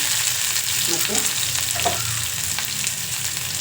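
Chopped onion goes into hot oil with mustard seeds for tempering, giving a loud continuous sizzle and crackle up close, with light stirring scrapes over it.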